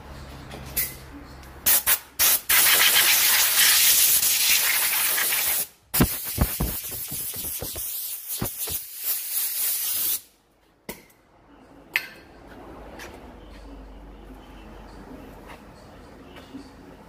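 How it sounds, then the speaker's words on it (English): Compressed air blasting dirt off the clutch parts of an MG3 with a stiff, sticking clutch pedal: several loud, close hissing bursts, one long and the rest short, separated by quiet gaps and light handling noises. "Blow all that crap out of there."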